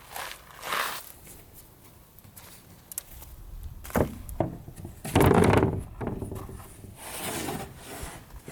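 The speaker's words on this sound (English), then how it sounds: "I'm just gonna cut the plywood on this and kind of see how it turns out here" Plywood being cut by hand on a makeshift surface for a van drawer, irregular rasping and rubbing strokes with a louder harsh burst near the middle, plus knocks and handling noises between them.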